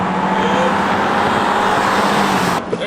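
A Subaru Outback is floored from a standstill to 60 mph, its engine revving hard and loud toward the redline in a sustained strain heard from inside the car, then cutting off abruptly near the end.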